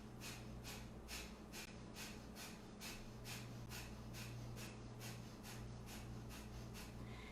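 Kundalini breathing exercise of light, even sniffing breaths, a steady quick rhythm of about two short nasal inhales and exhales per second, close and soft, over a constant low hum.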